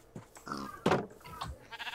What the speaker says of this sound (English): Sheep, come with me.